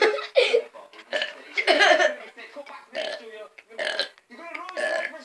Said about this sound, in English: so I'm going to do the burping challenge